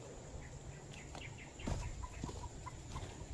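Chickens cluck softly in a Filipino backyard, scattered short calls and a few louder notes over a low steady background hum, fairly distant and faint with no talking.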